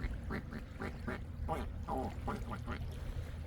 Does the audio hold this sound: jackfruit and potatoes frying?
no